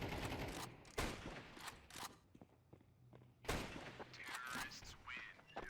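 Gunfire in the video game CS2, with a few sharp shots ringing out close and loud at irregular moments among softer clicks, thuds and footstep-like noises.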